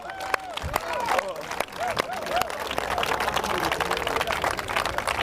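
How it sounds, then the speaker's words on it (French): A church congregation claps and acclaims the Lord, lively applause mixed with cheering and crowd voices, loud and close, with bursts of shouting rising over the steady clapping. "Acclamons le Seigneur."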